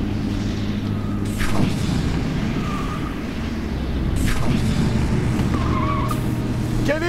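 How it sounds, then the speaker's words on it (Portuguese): A car skids on a road after a tyre blowout, with loud tyre squeals over engine roar and a heavy boom, repeating in several bursts. "Querida, o pneu furou!"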